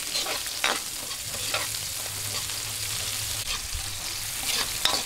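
Onions sautéing in oil in a pan for pansit sotanghon, with a steady close sizzle throughout, a few sharp clicks of a spoon stirring near the start and end, and a low hum underneath.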